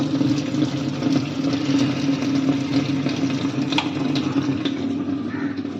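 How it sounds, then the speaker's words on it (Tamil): Water gushes through a newly replaced inlet valve into the diamond drum of a Samsung 6.5 kg washing machine, a steady close rushing flow with a low humming tone beneath it. "தண்ணி இப்போ பாருங்கள் கரெக்டாக ஊற்ற ஆரம்பிச்சிச்சு."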